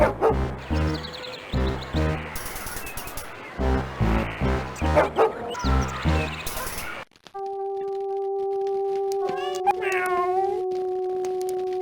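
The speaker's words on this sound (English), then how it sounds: "I would not get near that dog if I were you, Jim. It's suffering from rabies." A rabid dog in the video game Star Trek: Judgment Rites barks and yips in a rapid series of loud, close barks, followed by a sustained electronic tone with a few chirping sounds.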